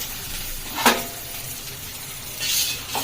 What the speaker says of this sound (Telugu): ఇక కొంచెం వేగేటట్టుగా వేపేసుకోవాలి వీటిని కొద్దిగా కలర్ చేంజ్ అయ్యే వరకు